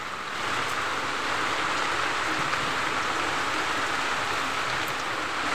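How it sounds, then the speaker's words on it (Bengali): Heavy rain pours down in a continuous, dense, even hiss that stays steady throughout, with no breaks and no voices. "জোর বৃষ্টি হচ্ছে, দেখেছো?"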